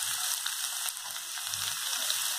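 Steady, bright hiss and crackle of finely chopped small onions (shallots) frying in hot oil for mushroom soup, continuous and close, with faint low clatter underneath.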